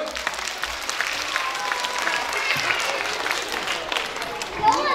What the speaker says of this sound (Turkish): Bir alkış gelsin bakalım.